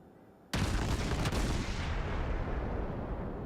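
Warship guns fire in a naval battle game between the cruiser Mogami and the battleship North Carolina: a sudden loud blast opens with a sharp crack, then a heavy rumbling boom slowly fades.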